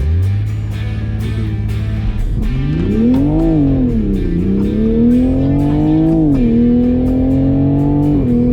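A 2020 Toyota Supra GR launches hard from a standstill, its engine roaring loudly as it climbs through the revs and shifts gears with rising and dipping pitch, close to the microphone.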